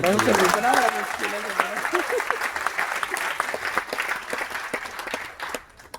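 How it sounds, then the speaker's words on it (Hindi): Loud audience applause at an achievement celebration on a cruise, a burst of dense clapping that gradually thins and fades toward the end. "एक जोरदार तालियां।"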